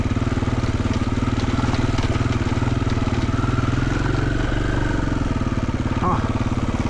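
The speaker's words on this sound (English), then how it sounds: "The motor's got a fun little Jetsons whir to it." A Triumph TF450E electric motorcycle motor running, a steady, close pulsing drone with a faint whir that rises and falls, continuous throughout.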